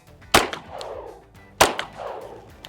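Two sharp gunshots roughly 1.3 seconds apart during pistol shooting practice on a range, each a loud crack followed by a brief rolling echo, with no talk.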